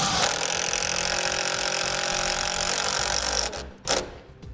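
Power driver buzzing continuously as a 5/16 self-tapping screw goes into a vehicle body, loud and close, then cutting off with a brief final burst.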